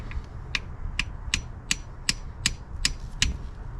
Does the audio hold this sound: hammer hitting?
yes